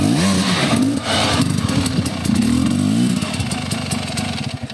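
Motorcycle engine on rough terrain at Orehovo, revving loud and close in rough, clattering bursts that rise and fall, with the rider struggling to push the bike up.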